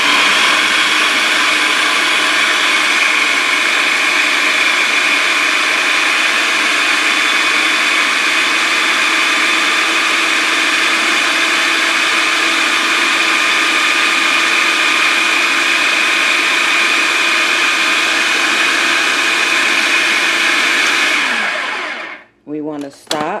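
A blender whirs loud and constant for about twenty seconds while whipping banana hair growth butter, then winds down and cuts off with a brief rattle at the end.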